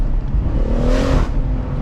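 Tuned BMW M140i with stock overrun pulling hard in first gear, a loud, close engine note with a rising rev that swells near the middle and then eases off.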